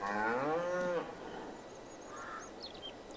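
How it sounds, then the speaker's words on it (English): Cows in Farming Simulator 22 give a loud, drawn-out moo up close, then a quieter second low call follows over a soft farmyard ambience. "Look at all those cows."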